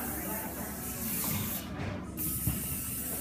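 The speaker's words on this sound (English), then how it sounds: "I'm going to do a light layer of the Benniefactor Be Confident Styling Spray before I diffuse the hair" A styling spray is misted onto naturally curly hair in a short hissing burst, close and soft against steady room noise.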